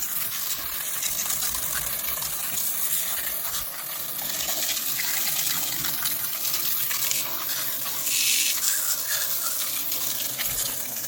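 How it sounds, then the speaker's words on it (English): Water sloshes and gushes steadily through a shaken oyster cage, a busy splashing wash with a brief louder surge near the end, no voices. "You just shake the cage and sort of have water flow through it"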